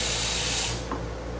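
A kitchen tap runs loudly into a pot to make stock from shrimp shells, a close and steady rushing hiss. It cuts off partway through, leaving quiet room tone.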